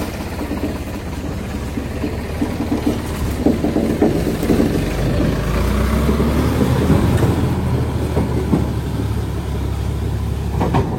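A Sonalika tractor engine runs steadily with a deep, continuous rumble that swells slightly as it revs, heard close and alone throughout.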